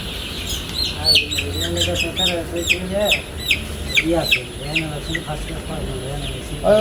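Color-bred broiler chickens on a poultry farm cluck and chirp repeatedly nearby, a busy flock chorus in short bursts, with a person talking over it.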